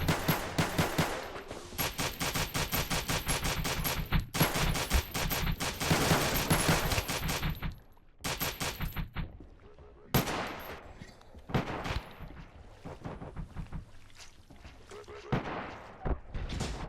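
Rapid bursts of gunfire in the Space Station 14 game during a nuclear operative round, loud and dense volleys with brief pauses, then scattered shots trailing off, with occasional voices underneath.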